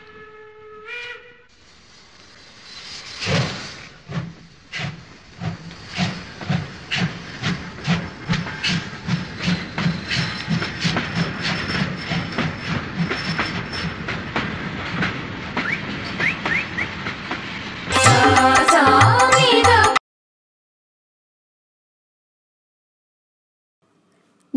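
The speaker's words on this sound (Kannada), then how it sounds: "ಹೊರಡ್ಲಿ ನಿಮ್ಮ ರೈಲು ಗಾಡಿ." A train departs with a steam whistle up front, then rhythmic chugging puffs that build into a steady, fast beat of wheels running on rails, ending in a loud, harsh burst before cutting to silence.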